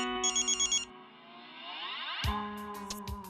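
A telephone ringtone trills in several quick bursts, then gives way to a sustained, echoing electronic tone and scattered clicks, the call going unanswered.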